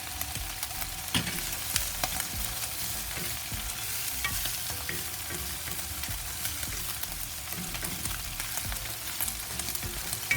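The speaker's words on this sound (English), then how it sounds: "So now also with my onions, I add a little bit butter." Onions frying in butter sizzle steadily in a pan alongside bacon, with continuous crackle and occasional stirring scrapes, close and even throughout with no talk.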